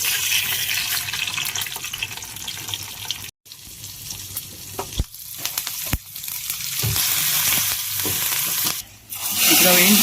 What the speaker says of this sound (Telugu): ఇప్పుడు అది బాయిల్ అవుతూ ఉండగా మనం పోపుని ఫ్రై చేసుకోవాలి.